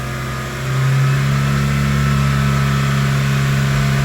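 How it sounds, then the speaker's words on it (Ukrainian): A Skoda Octavia Tour 1.6 (BFQ engine) revs hard to around 4000 rpm and holds at a high, steady drone, a loud continuous hum with no voices. "Добряче нагружаємо двигун зараз 3000 оборотів. а навіть 4 тисячі оборотів."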